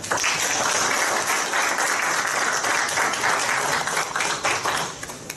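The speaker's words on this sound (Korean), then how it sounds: "회장 후보님들에게 뜨거운 박수 부탁드립니다" An audience at a Gyeonggi-do dental association presidential election candidate forum applauds the candidates with a dense, sustained roar of clapping that fills the hall and eases slightly near the end.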